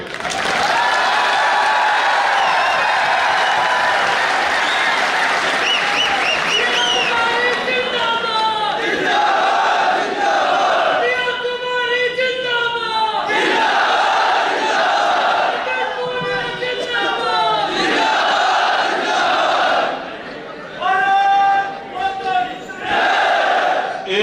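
A large rally crowd at a youth gathering claps and cheers in a loud, sustained roar, with shouted voices rising and falling over dense applause that briefly dips near the end.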